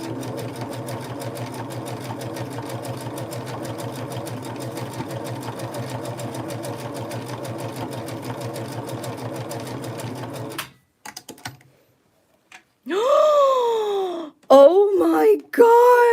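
A vintage Singer 6221C sewing machine stitches steadily and rapidly for about ten seconds, a close, even mechanical chatter that then stops, followed by excited exclamations from a woman.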